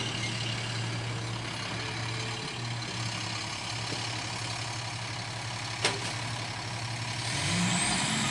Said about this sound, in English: Oh no, that's the recycle truck.